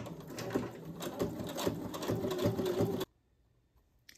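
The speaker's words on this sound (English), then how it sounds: "I'm just gonna use my straight stitch and stitch around the frame on the outside." A sewing machine runs a straight stitch around the outside of a fabric journal frame, producing a steady, close, rhythmic whir for about three seconds before stopping abruptly.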